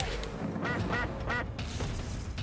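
Cartoonish duck quacks sound in a Mortal Kombat MUGEN fighting game match, several short nasal calls around the middle over a dense, steady bed of game noise and music.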